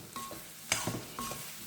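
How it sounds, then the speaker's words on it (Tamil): Tomatoes and small onions sautéing in a pan for chutney, a soft sizzle with spoon stirring and a few light scrapes against the pan, close and fairly quiet. "தக்காளி நல்லா இன்னும் வதக்கணுங்க."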